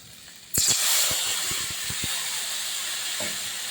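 Water hits hot fried brinjal in a pan, setting off a sudden loud burst of steamy hissing that eases into a sustained sizzle, with a few sharp clicks of a utensil against the pan.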